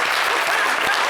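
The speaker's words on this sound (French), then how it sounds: "On applaudit quand même pour moi." A studio audience breaks into a brief, dense round of applause on a live talk show, loud and continuous clapping with a hint of crowd noise.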